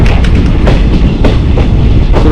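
A Konkan Railway train pulls out of a coastal station, a loud, steady rumble of wheels and carriages close by with a faint rhythmic clatter running through it.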